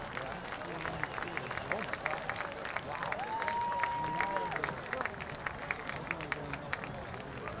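A large crowd gives sustained applause for 33 marching-band seniors and their families at a high school football game, Beavercreek at Fairmont: dense, steady clapping with cheers and murmuring voices, and a brief whistle-like tone partway through.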